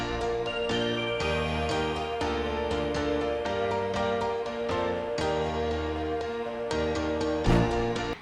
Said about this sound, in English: play all of the keys and synths together just so you can get an idea of what they sound like